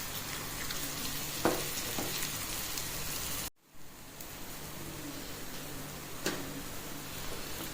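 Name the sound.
onions and green chillies frying in oil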